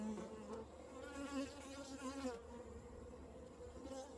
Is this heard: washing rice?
no